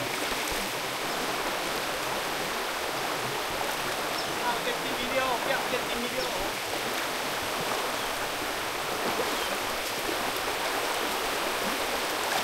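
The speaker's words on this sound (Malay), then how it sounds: "Kita harungi sungai-sungai, liku-liku sungai-sungai." Steady rushing flow of a river stream during stream fishing in Kampar, a continuous broadband wash heard close and fairly loud throughout, with faint speech underneath.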